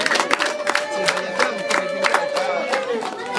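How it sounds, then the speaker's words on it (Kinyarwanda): An audience at a family visit claps and cheers in a steady, dense patter, with voices over the applause throughout. "namwe mwiha amashyi."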